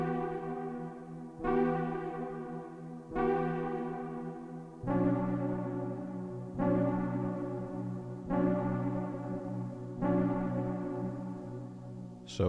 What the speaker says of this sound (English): So I'm gonna go first into the synth and let you guys hear it.